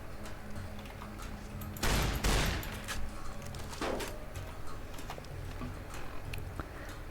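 Shotgun fire against bandits in Fallout: New Vegas, with a loud, dense burst of blasts about two seconds in, followed by quieter scattered game noise and a fainter shot later on.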